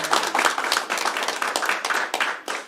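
Audience applause welcoming guests at a Korean newspaper founding ceremony, a steady wave of hand clapping from a seated crowd, fairly loud and close, continuing evenly for a few seconds before a brief dip.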